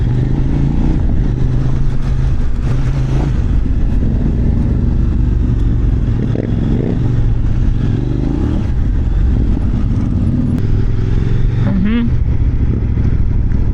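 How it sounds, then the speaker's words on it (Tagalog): An ADV adventure motorcycle rides a beach trail at Baler, its engine a steady loud drone throughout, with wind buffeting and some rattling over rough ground. "Pasok ko ADV bike."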